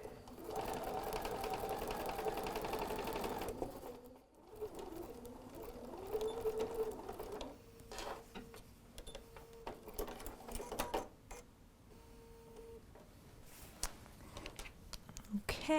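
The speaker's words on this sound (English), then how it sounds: "pick some thread you like to see, and we will just sew" A sewing machine stitches fabric for a face mask made from a Ruby Star Society fabric panel, running in steady close bursts with short pauses between seams.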